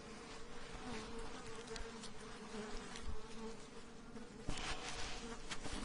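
Honey bees of the Ekotip type hum softly around an open beehive, a low steady buzz with a few louder passes near the end.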